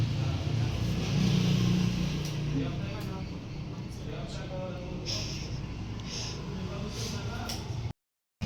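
A car engine rumbles nearby and revs, with vehicle noise continuing under people talking, then cuts off abruptly near the end.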